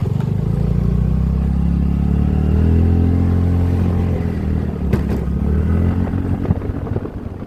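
A motorcycle ridden along a narrow winding mountain road between Pelling and Ravangla: a loud, close, steady low engine drone that shifts slightly in pitch, with occasional clatter from the rough road, no talk.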